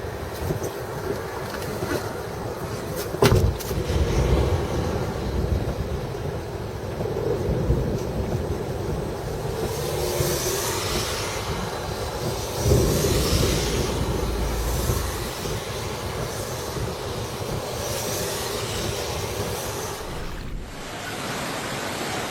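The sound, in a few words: EF4 tornado hitting a city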